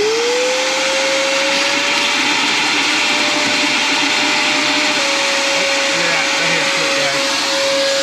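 Shop vacuum running continuously close by, sucking water and debris out of an RV hot water heater tank, a loud steady whine with a constant tone and faint gurgling beneath.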